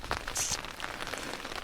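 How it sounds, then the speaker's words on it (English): Rain falling on a tent in Glen Broadford on the Isle of Skye, a soft, close patter of scattered drops tapping the fabric, faint and steady with no voices. "it started to rain a bit more steadily now. Can hear it on the tent."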